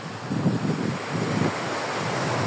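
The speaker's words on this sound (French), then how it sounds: "Pendant que vous commencez à respirer, bruit des vagues, inspire quand la mer monte" Ocean surf rolls in as a steady, broadband wash with soft swelling surges, heard alone without voices.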